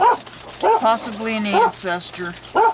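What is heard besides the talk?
dogs barking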